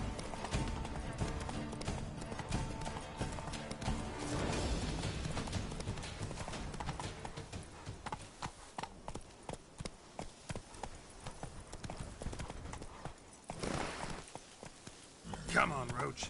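In the Witcher 3 game, hooves of the horse Roach clip-clop in a steady rhythm beneath dense game music and effects, and a voice talks over much of it.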